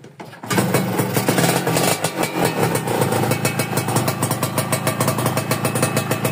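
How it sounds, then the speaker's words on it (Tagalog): After a short quiet start, a small engine roars up and holds a raised, rapid idle, loud and close with a fast steady pulsing throb and no talk. "Taasan natin yung idle para hindi mamatay."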